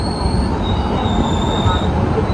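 A summer special express train pulls into Kurduwadi railway station, its wheels squealing in sustained high whines over a loud, steady rolling rumble.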